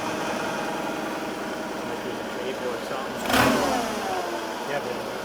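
A cheap old forklift engine with a throttle that does not fully return runs at a steady mid-pitched idle and gives one brief rev surge partway through, heard close under a man's speech.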